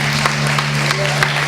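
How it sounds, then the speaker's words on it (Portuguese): Audience applause at a church graduation ceremony, a steady dense wash of clapping over a low constant hum, with a few louder claps standing out. "Você pode aplaudir o nome do Senhor?"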